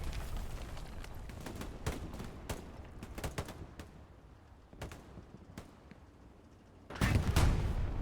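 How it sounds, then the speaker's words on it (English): Rockets and gunfire are exchanged in Hell Let Loose on Utah Beach, with scattered sharp shots and distant booms at a mid distance, then a heavier, louder blast and rumble near the end. "Rockets being exchanged."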